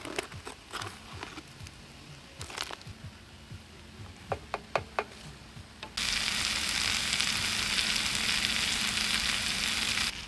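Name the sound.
chutney frying and sizzling in a pan while camping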